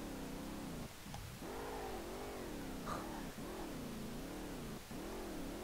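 A car engine in SLRR, driven while drifting on a tight downhill track, revs up and down in repeated wavering swells, with brief sharp drops at the shifts. It is steady and moderately loud with no talking.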